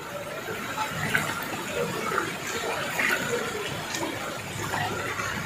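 Floodwater rushing after heavy rain in Nainital, Uttarakhand, with cars and bikes submerged; a steady, broad wash of moving water fills the whole stretch at an even level, with no one speaking.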